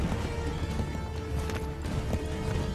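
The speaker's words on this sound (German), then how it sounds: "Die kommen doch kaum vorbei mit dem Pferd." Horse hooves galloping at a steady, rapid rhythm in the Assassin's Creed 3 video game, heard close and fairly loud over a dense game soundscape.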